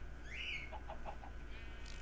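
Turkey gobbles from the Mo' Creatures mod in Minecraft, a short run of four or five quick clucking calls in the middle of the clip over a steady game background hum, with a brief chirp at the start.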